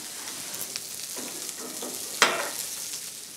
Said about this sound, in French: Notre Saint-Pierre, voilà, tranquillement grille.